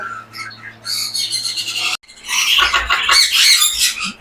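Gouldian finches and Bengalese finches in an aviary, giving a burst of close, sharp chirps and squeaky calls that break off briefly, then return as a denser chattering chorus.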